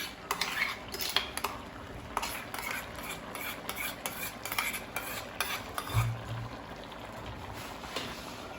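Thick cashew paste scraped and stirred into a pan during oil-free cooking, with repeated utensil clinks against the metal pot, soft wet stirring and a faint sizzle, no talking.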